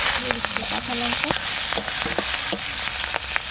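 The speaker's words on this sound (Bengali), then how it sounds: "কুমড়ো শাক ভাজা করব, কালো জিরে, রসুন," Pumpkin greens frying with black cumin and garlic in hot oil, a close continuous sizzle with spatula scrapes and stirring clatter, while a voice speaks briefly over it.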